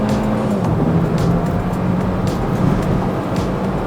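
Hyundai Venue crossover engine droning and building as it accelerates to pass on a freeway, a steady loud cabin hum with road and wind noise throughout.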